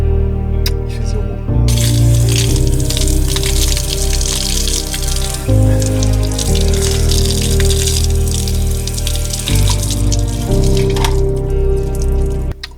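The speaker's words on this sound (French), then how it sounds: "je vais commencer par prendre une douche avant" Shower water running in a loud, steady gush that fills the space, with a droning tonal hum underneath throughout.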